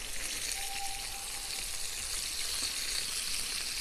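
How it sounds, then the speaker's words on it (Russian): Pork ribs fry with pepper in a pan, giving a steady, close hiss and crackle of sizzling fat that runs unbroken throughout, with no voices. "Вот так вот они жарятся."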